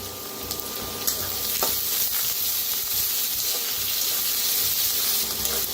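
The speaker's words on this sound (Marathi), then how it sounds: "ह्याच्यात टाकल्या कोथिंबीरच्या बघा अशा काड्या कवळ्या कवळ्या आणि कांद्याची पात ती बी भाजून घेऊया" Tender coriander stalks and spring onion greens fry in a pan with onion for pithla, a steady hissing sizzle held throughout at close range, with faint stirring clinks and no talk.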